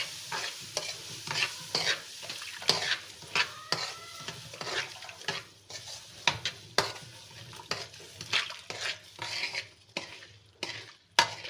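A spoon stirs egg into semolina halwa in a wok taken off the stove, giving repeated scraping, clinking strokes against the metal with a soft sizzle, close and uneven in rhythm, with no talking.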